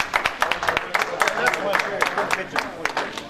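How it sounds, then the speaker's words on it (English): Applause from a small audience at a motorsports show's auction, with scattered individual claps at an uneven rhythm, fairly close and moderately loud, mixed with voices and crowd murmur throughout. "Give you a round of applause."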